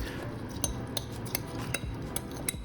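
Lentils and water are stirred in a pot with a spoon, producing a series of soft scraping strokes and light metallic clinks against the pot at a steady rhythm, quiet and close with no voices.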